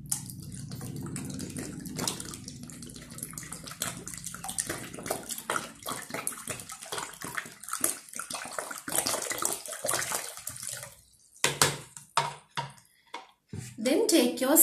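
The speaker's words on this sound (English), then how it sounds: "Then unfill your water bottle." Water is poured out of a one-liter water bottle for a children's volume and capacity lesson, making a steady close splashing gush with gurgles and drips. A voice is heard talking over it.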